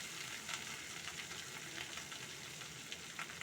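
Spring onion and eggplant frying in a pan with tomato and green chili, a faint, steady sizzle with soft crackles and stirring, no voices.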